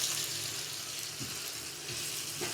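Chopped onions frying in hot oil for mutton kaleji masala, a steady close sizzle that crackles continuously throughout.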